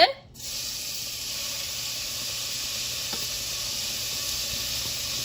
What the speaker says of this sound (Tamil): இப்போ நம்ம வெங்காயத்தை போட்டுடலாங்க.